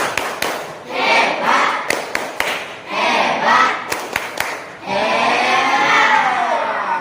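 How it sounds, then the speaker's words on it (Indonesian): A classroom of students performs a rhythmic 'tepuk hebat' clapping chant for a group, with bursts of sharp claps and thumps mixed with young voices chanting, swelling into sustained crowd noise near the end. "Tepuk hebat untuk kelompok 1"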